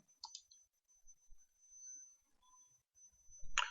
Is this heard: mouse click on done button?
yes